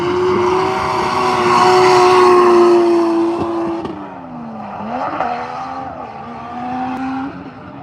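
A drift car at Ebisu Circuit in Japan, during autumn drift practice, roars loudly with a sustained engine tone and tire squeal, then the pitch drops and wavers as the car half spins, with screeching tires and engine revs continuing.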